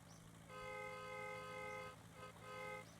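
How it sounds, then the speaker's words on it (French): Car horn in the driving video game The Long Drive, two steady honks, the first long and the second shorter, quiet under a low engine hum. "On a un klaxon."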